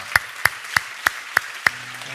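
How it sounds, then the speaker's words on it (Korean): Church congregation clapping in thanks, six sharp, evenly spaced claps struck in unison at a steady beat, each crisp and distinct, with a faint voice or tone starting after the last. "우리 하나님 앞에 다시 한번 감사의 박수 올려드리도록 하겠습니다."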